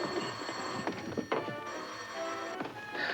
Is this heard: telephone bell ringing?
yes